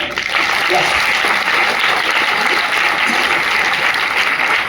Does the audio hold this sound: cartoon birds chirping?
no